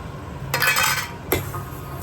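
A utensil scrapes and clinks against a pan while sweet vermicelli is stirred over a high gas flame, two short bursts of metallic scraping close by over low background hum.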